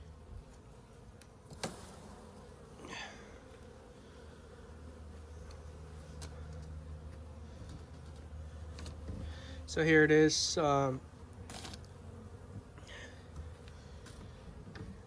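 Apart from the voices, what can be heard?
honey bees buzzing in a hive box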